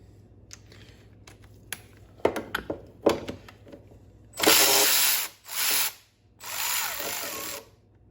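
A socket wrench works a bolt loose on a Mercury 135 BlackMax outboard engine: scattered light clicks, then three longer loud bursts of rapid ratcheting, close up with no talking.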